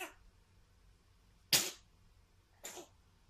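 Two short, sharp sneezes burst out of a quiet room, the first louder, the second softer about a second later.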